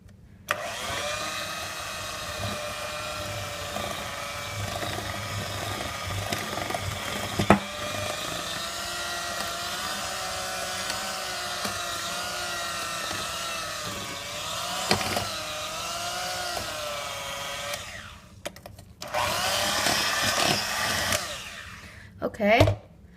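A hand mixer beats white cake batter after more flour goes in, a steady close whirring drone with shifting pitch that cuts out briefly near the end and then resumes loudly.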